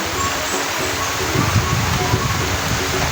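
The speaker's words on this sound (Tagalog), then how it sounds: "Grabe ang lakas ng ulan" Steady, dense heavy rain hissing without a break among trees in Barangay Sagay, Toledo City, with some low rumbling and rustling underneath, close and fairly loud.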